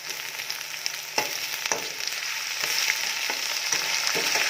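Chicken meat sizzles and crackles steadily in a hot pan with ginger and garlic, with a few scraping stirs, close and without talk.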